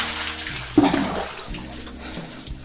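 Water sloshing and splashing as a bucket is poured during bathing at a naula, a traditional stone spring well in Uttarakhand, with a sharp splash burst followed by softer trickling and splashes nearby.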